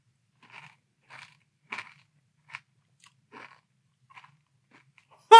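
Grape Nuts for Kids cereal soaked in milk crunches close up in about eight separate chewing bites spaced through near silence, ending in a sudden loud burst.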